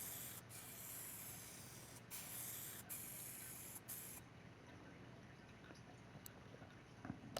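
A paint spray gun hisses in a steady, continuous stream while respraying a car in Car Mechanic Simulator 2021, the spray running unbroken at an even level with brief faint clicks.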